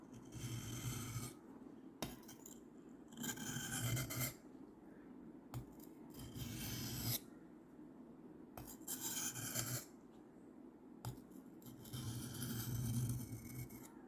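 Knife blade drawn repeatedly across a sharpener to strip rust, rasping strokes in regular bursts of about a second with short pauses between, close and steady.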